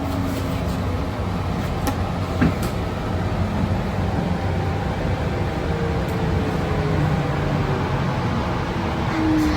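Steady low rumble and hum inside a train carriage, a continuous rolling drone with faint clicks and rattles, while voices speak quietly over it.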